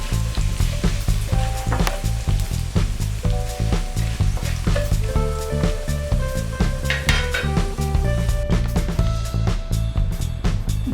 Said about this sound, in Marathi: फ्राय करून घेणार आहोत